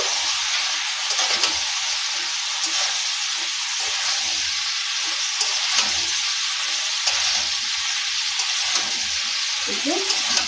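Ghugni masala frying in oil in a pan while being stirred, a dense continuous sizzle and hiss with soft scraping stirs throughout, close up and fairly loud.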